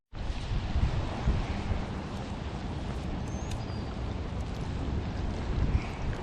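Strong wind blowing across a small stocked pond on a stormy day, a loud, continuous roar of rushing air and microphone buffeting that runs unbroken with no speech.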